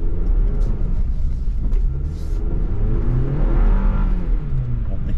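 A 2023 Chevy Colorado Trail Boss pickup fitted with a Banks PedalMonster throttle controller accelerates through an orchard, heard from inside as a steady, loud engine rumble with rising and falling revs throughout.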